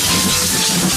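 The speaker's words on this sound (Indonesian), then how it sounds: "Ada lokomotif kereta api." Toy train locomotive: a steady, loud hissing rumble with a sustained whistle-like tone running through the whole short stretch, with no talking.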